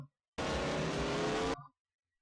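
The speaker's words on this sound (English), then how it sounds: "he's going to blow his engine up, right?" A race car engine in the film Days of Thunder roars for about a second at full, steady volume, then cuts off abruptly with a short fading tail.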